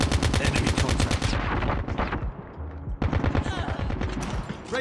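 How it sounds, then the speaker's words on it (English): Rapid automatic gunfire in Call of Duty Mobile rattles loud and near in two long bursts split by a brief lull, with faint game voice callouts mixed in. "I kind of missed a couple shots there."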